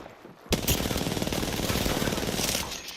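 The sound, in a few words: gunfire in the video game Apex Legends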